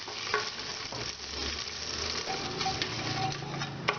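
Whole spices (cinnamon, cumin, black pepper, cloves, cardamom, bay leaf) frying in hot oil for veg fried rice, a steady close sizzle with light stirring clicks and a sharp tap near the end, no talk.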